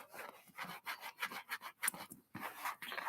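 Close, quiet rubbing strokes on worn leather of cowboy boots, a soft rhythmic swishing repeated about a dozen times with short gaps between strokes.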